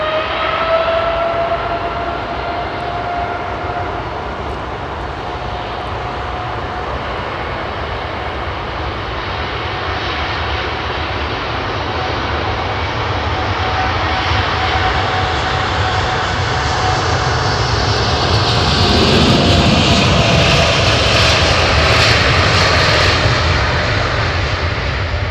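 A jet airliner departs Heathrow with a loud, sustained engine roar that builds and brightens toward the end as it climbs past, with no voices.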